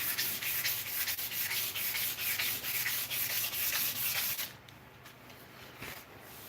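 A hexagonal, ridged wooden handle is sanded and polished by hand in close, quiet, rhythmic back-and-forth rubbing strokes that fade out near the end.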